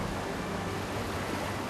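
Rough sea waves surge at a coastal cave in Indonesia, heard as a steady, dense roar of churning surf that fills the whole clip without a break and with no voices.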